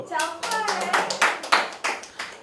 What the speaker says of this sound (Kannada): ಮಾತಿಗೆ ಮುಂಚೆ ನೀವು ಚಪ್ಪಾಳೆ ಹೊಡಿತಾ ಇದ್ದೀರ